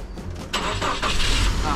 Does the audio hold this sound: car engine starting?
yes